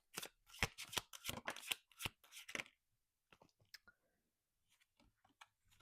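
Tarot cards shuffled close by in quick, crisp riffling bursts over the first few seconds, then a few scattered soft card clicks and handling sounds in near silence.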